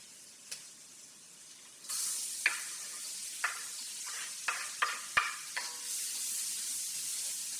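Onions dropped into melted butter in a pan start a bright, steady sizzle that runs to the end, with several distinct scrapes and taps as a utensil stirs them.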